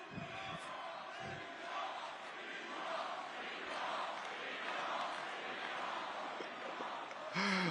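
A large crowd at the Bitcoin 2024 conference cheers and roars loudly and steadily for several seconds, a dense wash of voices that swells near the end.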